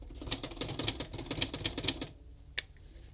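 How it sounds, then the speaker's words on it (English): Keys striking on an old typewriter in an abandoned house, five or six sharp clacks in an uneven rhythm over about two seconds, followed by a single fainter knock after a short pause. "You even got the old typewriters. And it still kind of works."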